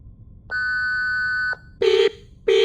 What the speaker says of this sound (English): Beep, beep. Warning, insufficient chaos particles.